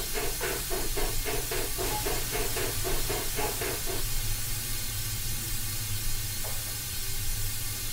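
Steam locomotive SP&S 701 in Train Simulator 2016 hisses loudly and steadily, with a rhythmic chuffing pulse in the first half before it settles into a constant rushing hiss.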